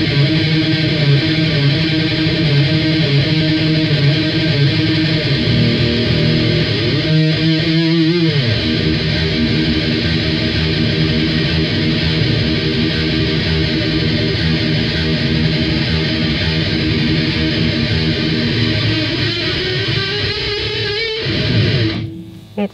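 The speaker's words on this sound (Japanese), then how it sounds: "ディストーションは単体で使うことはないんですけど、まあちょっと歪み足すにちょっと足すと、なんか混沌感が生まれて" An electric guitar played through EarthQuaker Devices distortion pedals on a guitarist's board produces a loud, sustained, saturated drone with a shifting chord near the middle, then cuts off abruptly at the end.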